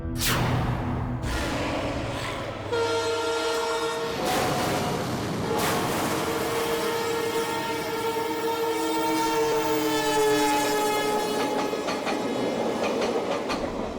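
A train rolls through a railway station with a sustained rumbling clatter of wheels and a long, loud horn blast that holds for several seconds, close and dominant with no talk.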